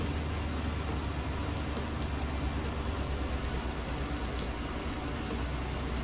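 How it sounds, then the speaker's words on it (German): Steady rain pours down on a Thuringian farm, a dense, even hiss with patter on surfaces that holds constant throughout with no talking. "Na, wie findet ihr den Regen?"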